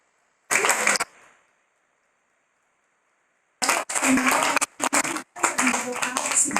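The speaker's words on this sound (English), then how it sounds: "let's give them one more big round of applause" An audience at a middle school speech contest claps for the student speakers: one short burst of applause, a pause, then a longer stretch of clapping.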